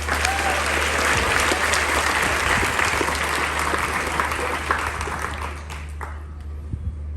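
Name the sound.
audience applause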